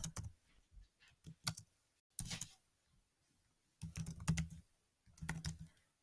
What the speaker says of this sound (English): Whenever I type inside of this box